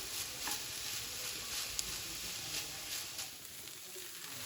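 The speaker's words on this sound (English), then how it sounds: "These veggies have been sauteing about 7 minutes or so." Peppers and other vegetables sautéing in a pan, giving a soft, steady sizzle at a low level with faint occasional ticks.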